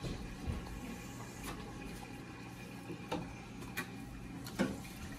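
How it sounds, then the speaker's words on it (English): Water siphoned out of a reef fish tank drains steadily into a drain, a soft continuous trickle and wash with occasional faint clicks and knocks, quiet and with no voices. "So, the water's draining at this point."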